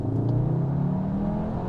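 A 2022 Cupra Leon Estate engine pulls steadily under acceleration, a smooth rising drone with a rumbling low end, heard from inside and fairly loud throughout.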